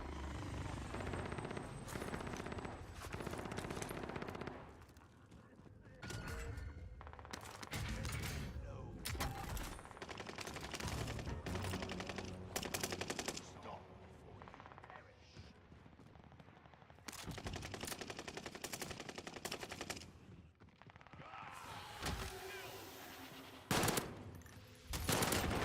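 Automatic gunfire from a gun in a video game, heard as loud, dense bursts of rapid shots that keep breaking off and starting again over about twenty-five seconds, with brief lulls between the volleys.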